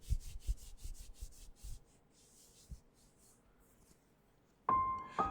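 Thick fabric rubbing against itself, imitating the swish of a jubbah as someone moves around a room, with a few soft close brushing strokes followed by a brief louder rustle at the end.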